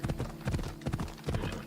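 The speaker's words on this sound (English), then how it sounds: "अपने आप घोड़ा चला जाता है उधर तक." Horse hooves clip-clop steadily in the video game Assassin's Creed Odyssey, a loud, even trotting rhythm up close, with game sound underneath.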